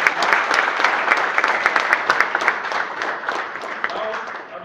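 An audience at a mechanical department college program applauds a newly announced student association president, with steady crowd clapping that gradually fades.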